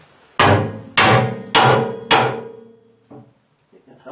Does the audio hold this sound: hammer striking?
yes